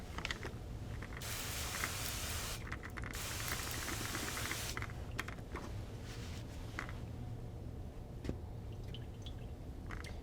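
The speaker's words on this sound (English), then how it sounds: "It's totally fine to rinse your mirror in between sprays." A pump sprayer hisses silvering solution onto a mirror in bursts, with short loud sprays at the start and middle and quieter drips and trickles between them.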